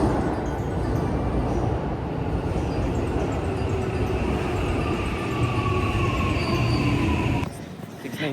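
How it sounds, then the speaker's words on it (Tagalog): Train pulling into a station near Universal Studios Japan in Osaka, a loud continuous rumble with faint wheel squeal throughout, easing off near the end. "Dito na kami naghihintay ng tren."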